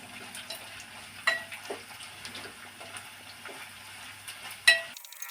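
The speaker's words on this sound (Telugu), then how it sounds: "ఇది మంచిగా వేగనిచ్చి కరివేపాకు కూడా వేసుకుందాం." Curry leaves hitting a hot tempering of garlic, dried chillies and cumin, a soft steady sizzle with two sharper pops and crackles, close but fairly quiet, ending abruptly.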